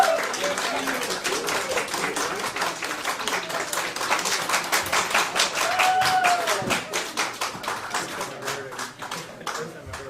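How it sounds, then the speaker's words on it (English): In a courtroom after a life-without-parole sentence, a crowd of friends and family claps and cheers, dense rapid applause that goes on throughout. "something which was met with jubilation, cheers and claps of April's friends and family."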